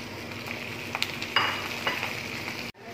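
Shrimp hit a pan of browned ginger and fry with a busy sizzle, a few sharp scraping stirs and clatters breaking through before the sound cuts off abruptly near the end.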